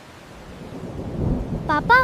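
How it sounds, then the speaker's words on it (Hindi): Thunder rumbles from rain clouds, a low swelling roll building over two seconds with rain-like hiss, followed by brief voices at the end. "पापा, बादलों की आवाज आई क्या?"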